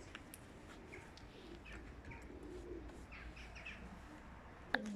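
Pigeons coo softly in a quiet outdoor setting, with several faint, low, rounded calls spread across a few seconds and a brief sharper noise near the end.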